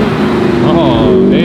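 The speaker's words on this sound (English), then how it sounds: "Really loud. Oh, RS6." An Audi RS6 passing on a city street, its loud engine revving with a rising, sweeping pitch over a brief moment, with people talking over it.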